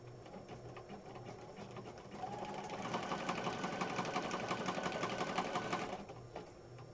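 A sewing machine stitching thin paper runs in a fast steady stitching whir, rising louder midway for a few seconds before easing off, heard close and alone.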